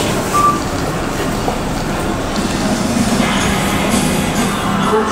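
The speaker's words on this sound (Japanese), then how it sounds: "一番線に到着の電車は折り返し各駅。" Tobu 60000 series train arriving at the terminus platform at Omiya, a loud steady rumble of the train rolling in with a faint whine as it slows.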